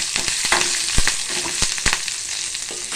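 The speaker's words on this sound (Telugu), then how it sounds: "ఇవన్నీ వేసి మంచిగా ఫ్రై చేసుకుందాం." Curry leaves, ginger and garlic fry in hot oil in a pan for a fish masala curry, giving a steady close sizzle punctuated by sharp crackles and pops, with a few spoon-stir clanks and no speech.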